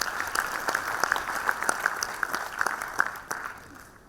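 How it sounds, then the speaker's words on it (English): An audience at a 2024 campus graduation ceremony breaks into steady applause, with dense, even clapping of moderate loudness that thins and fades toward the end. "Everybody, a round of applause."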